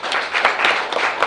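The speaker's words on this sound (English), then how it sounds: "So a huge clap for our brother Joseph." Audience at a World Women's Day celebration clapping, a brief burst of mixed, uneven applause at moderate distance.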